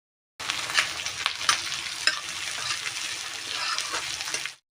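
Onions fry in a pan for a Bengali kundri (ivy gourd) stir-fry, giving a steady, close broadband sizzle with occasional stirring scrapes and clicks throughout, no voices.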